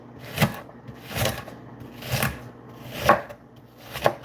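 Knife chopping onion on a cutting board in a home kitchen, five distinct, evenly spaced chops close by with no talking.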